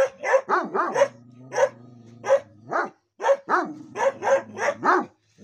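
A dog barks repeatedly in short, yelping bursts, a close and loud string of barks with brief pauses between them.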